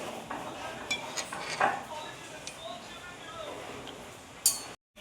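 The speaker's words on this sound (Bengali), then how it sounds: "এগুলো সেদ্ধ হয়ে গেছে, এগুলো আমি এখন এইটা দিয়ে নামিয়ে নেব ছেঁকে।" Boiled momo dumplings are lifted and strained out of a cooking pot. Light metallic clinks and clatter of a utensil against the pot come in scattered taps at close range, and the sound cuts out briefly near the end.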